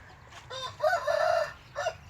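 A rooster crows loudly and close in a pen of chickens and ducks, a drawn-out call followed by a short clucking burst.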